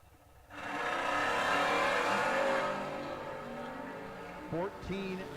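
A Chevelle door car roars down a drag strip at a racing event, a loud sustained engine rise that fades with distance while an announcer talks over it.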